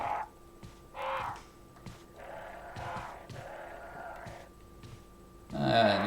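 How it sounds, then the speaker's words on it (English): Crows cawing in the Resident Evil Remake video game, a series of harsh caws spaced through the passage at moderate loudness, heard amid game ambience and a louder burst at the end. "Wait, were there crows in here earlier?"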